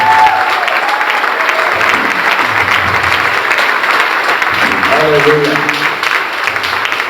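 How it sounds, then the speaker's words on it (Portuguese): A church congregation keeps up loud, sustained applause, with a voice calling out over the clapping. "Pode ser mais forte esse aplauso a ele."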